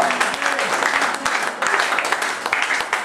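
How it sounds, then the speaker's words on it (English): A church congregation at a Methodist Christian fellowship service claps together in a dense, sustained burst of many hands, fairly close and filling the room, with scattered voices under it. "Give a hand clap to the real father"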